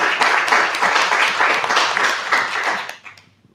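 Audience applause at a CNRS conference on professional equality, a dense burst of many hands clapping loudly and steadily before fading out near the end.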